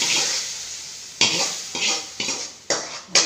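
Hot tempering poured into a pot of lentil curry in a home kitchen, giving several sharp sizzling bursts that flare and fade in a steady rhythm, close and fairly loud.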